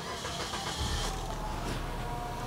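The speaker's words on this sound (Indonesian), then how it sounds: "Saya akan nyalakan mesinnya." A 2014 Suzuki Ertiga GX automatic's engine cranks and catches, a brief start burst that settles into a steady close idle hum with no talking.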